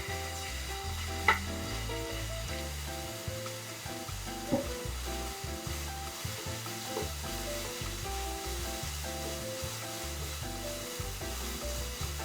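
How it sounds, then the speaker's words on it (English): Marinated beef slices frying slowly in a pan, a steady low sizzle with occasional light spatula scrapes and pops, no speech. "Slowly fry the marinated beef slices until they're just cooked"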